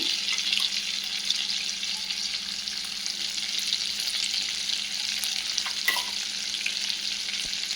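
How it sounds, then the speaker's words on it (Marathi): Chicken frying in oil and butter in a kadai, a steady close sizzle with faint stirring clinks running throughout. "चिकन फ्राय करून घेऊ"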